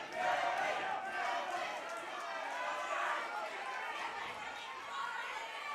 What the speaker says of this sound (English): the Shannon crowd respond with chants of David.